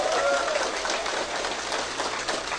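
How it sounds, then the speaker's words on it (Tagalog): Dense applause from a crowd at a motivational business event, steady and fairly loud throughout, with a brief trace of voices near the start. "Kaya palakpak na malakas."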